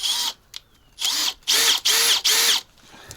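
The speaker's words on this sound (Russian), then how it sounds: "Просто с помощью левого сверла." Power drill turning a left-hand reverse drill bit while extracting a broken bolt on a rare HANOMAG 44D loader under restoration: several loud, high whining bursts of about half a second each, separated by brief pauses, close by.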